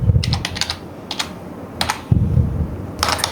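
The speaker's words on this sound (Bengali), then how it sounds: "এখানে আমি নাম লিখব আজিজুল," Keys clack on a computer keyboard as names are entered into an Excel sheet, coming in short quick bursts separated by brief pauses, close and clear with no talk.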